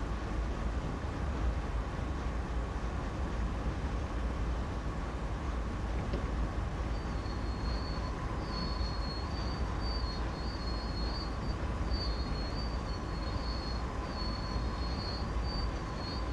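A freight train hauling tank cars brakes in Train Sim World 2, giving a steady heavy rumble and rolling wheel noise, with a thin high squeal from the wheels appearing partway through.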